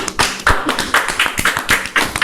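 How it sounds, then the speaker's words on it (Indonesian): Scattered hand claps from an audience at a variety show, loud and close, with several sharp claps spaced unevenly over about two seconds rather than a full continuous round. "Ayo tepuk tangan."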